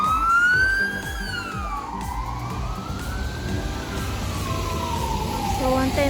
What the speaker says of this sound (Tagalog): May ambulansya pa.